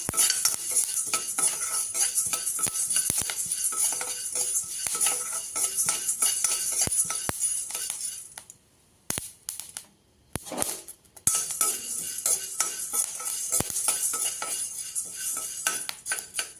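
Corn kernels dry-frying in a pan for idli podi crackle and hiss steadily, with scattered sharp pops and scraping stirs, a brief near-silent gap midway, then the crackling resumes.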